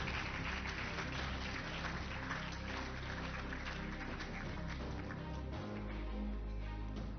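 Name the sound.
applause welcoming startups at pitch session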